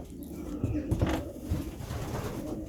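Racing pigeon cocks coo inside a loft box in soft, throaty, repeated bursts, close and fairly quiet, over a low murmur of background noise.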